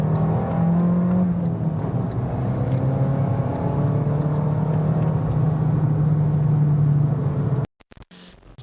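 An Abarth 500c convertible accelerates hard to overtake, its engine note rising in a steady loud drone and shifting pitch as it pulls past, then cutting off abruptly near the end.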